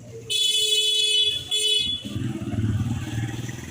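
A horn blares twice in quick succession on an empty riverside road, then a motorbike engine rumbles close by as it passes.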